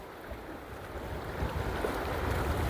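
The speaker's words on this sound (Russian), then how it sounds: "Вот она, река." A cold mountain river rushes over stones along the Pamir Highway in Kyrgyzstan, a steady broadband roar close by with wind noise on the microphone and no talking.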